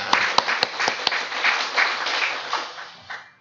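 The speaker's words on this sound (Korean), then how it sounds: "다시 한번 박수 부탁드립니다" An audience at a seminar applauds, a few sharp individual claps at the start swelling into a brief wash of clapping that fades out within seconds.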